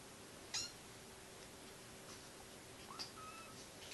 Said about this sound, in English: Peeping kitten.